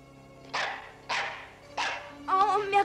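A dog gives three spaced, mid-pitched barks close by, followed by a short burst of higher yips and whining.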